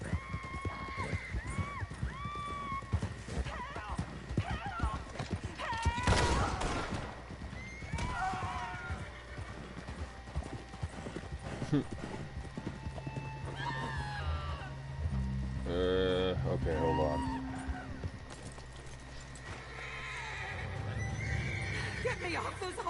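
Horse in the Red Dead Redemption 2 video game, with clip-clop hoofbeats and loud whinnies amid game sounds, and people speaking at intervals.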